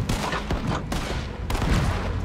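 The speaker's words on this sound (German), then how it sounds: "Und die feuern aber auch scharf zurück." Rapid bursts of gunfire from a Mexican stand-off shootout in the video game Red Dead Redemption 2, with dense overlapping shots and sharp cracks at about 0.9 and 1.5 seconds over continuous loud firing.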